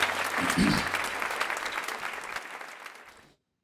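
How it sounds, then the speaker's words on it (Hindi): Congregation at a church sermon bursts into sustained applause, a dense wash of many hands clapping that slowly thins and fades out, with no talk over it. "तालियां बजाओ"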